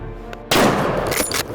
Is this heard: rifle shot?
yes